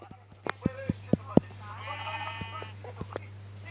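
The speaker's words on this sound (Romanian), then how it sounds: "Dă-te, oaie!" A sheep bleats once in a wavering cry amid sharp knocks and clatter nearby, with a voice briefly heard and a steady low hum underneath.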